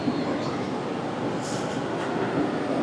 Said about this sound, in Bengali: এই যে বন্দে ভারত এক্সপ্রেস দাঁড়িয়ে রয়েছে